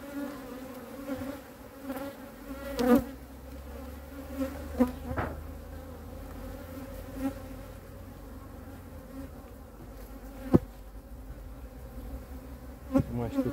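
Honeybees hum steadily around an open hive during frame work, a low continuous swarm buzz with individual bees zipping close past now and then.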